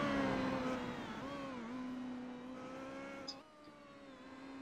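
Race car engine at Bathurst in the iRacing sim, a steady droning note heard from on board that dips and rises as the car heads towards the final turn, fairly quiet.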